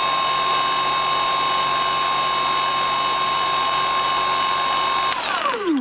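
A Transmagnetics 3kW motor rated for 38, 57 and 76 volts spins with no load, holding a steady, loud, high electric whine that falls in pitch as it winds down near the end.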